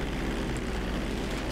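Airplane engine in GTA V, a steady loud propeller-like drone with low rumble holding unbroken throughout, no voices over it.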